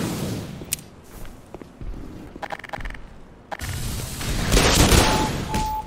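Grenade blast in the Black Mesa video game: a scattered crackle and thud, then a broad rumbling burst that builds and lingers near the end, with no talk.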